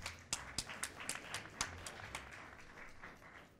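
Applause from an audience at a business awards ceremony comes as scattered, fairly sparse claps, a few sharp ones up front, then thinning into a softer patter, moderately faint.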